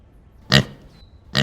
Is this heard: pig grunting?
yes